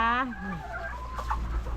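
A hen clucks loudly and close in a chicken coop lined with citronella grass, one short call at the start that fades into quieter farmyard background.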